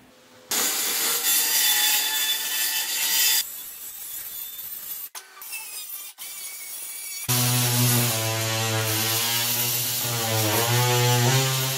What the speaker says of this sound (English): So I'm switching to my circular saw with a different blade to go through wood.